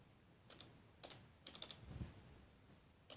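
A few quiet keystrokes on a computer keyboard typing a number into a search bar, short clusters of soft clicks with pauses between.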